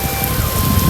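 Steady rain hisses down over rice paddies during planting season in a farming village, a dense, even wash of sound with no voices present.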